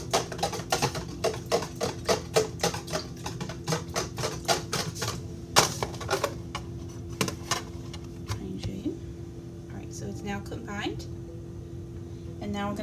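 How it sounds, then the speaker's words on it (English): A whisk beats a teaspoon of vinegar into a batter in a home kitchen, giving a fast run of sharp, regular clicks against the bowl that slows and softens toward the end, close and clear with a faint background hum. "So I'm just going to combine it with my whisk."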